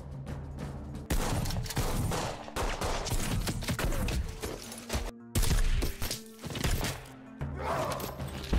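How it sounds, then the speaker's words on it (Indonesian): Shootout with a dense exchange of gunfire, loud, rapid bursts and overlapping shots packed into sustained volleys, broken only by brief pauses. "Akhirnya baku tembak pun terjadi."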